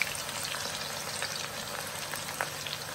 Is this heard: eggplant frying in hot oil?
yes